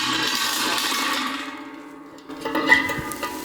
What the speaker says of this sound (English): you bring the bucket down, fill them with water